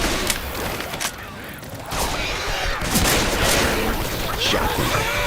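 Shotgun blasts and combat noise from the zombie shooter Left 4 Dead 2 in a narrow hallway, several booming reports over a dense, continuous wash of chaotic game sound with shouted callouts mixed in.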